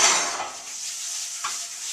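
A hot cast iron pan sizzles with oil during stovetop seasoning, a soft steady hiss with a brief clink of metal partway through, close and fairly quiet with no talk.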